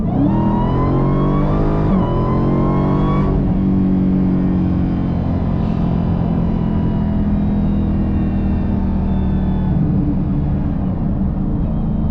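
A Dodge Challenger Demon muscle car engine revving hard on throttle, loud and close, with a rising rev that drops back and then holds a steady, sustained roar.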